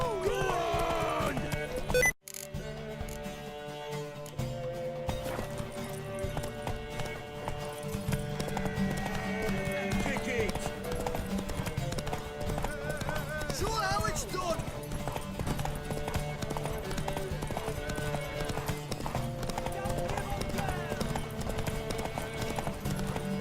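Galloping horse hooves in The Witcher 3: Wild Hunt, a long, continuous clip-clop beat running under game music and occasional speech, with a whinny at one point and a brief pause early on.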